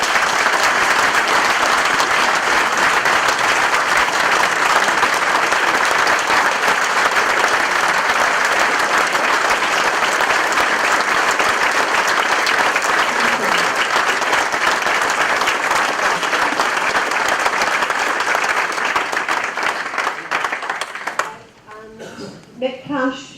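Long, steady round of applause from an audience at a trade union lobby meeting, continuous dense clapping that fades out at the end as a voice begins to speak.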